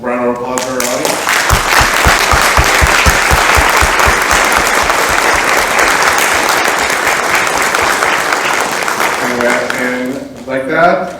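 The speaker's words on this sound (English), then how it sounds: "A round of applause for our audience." A large audience at a conference panel applauds loudly and steadily for several seconds, the clapping dense and sustained before tapering off, with brief talk at the start and end.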